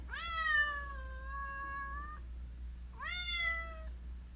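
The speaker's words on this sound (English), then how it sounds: "He really is the talkiest cat I have ever met." A talkative male cat meows twice, a long drawn-out call followed by a shorter one after a brief pause, close and clear over a low steady hum.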